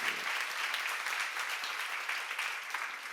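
Church congregation clapping during a Korean sermon on Romans, a steady continuous wash of many hands that stays fairly even throughout.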